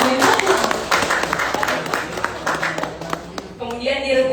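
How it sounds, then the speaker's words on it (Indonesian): A school competition audience applauds SMP Al-Mazaya Islamic School's team with scattered, crisp claps over about four seconds, thinning toward the end. "Beri tepuk tangan yang meriah"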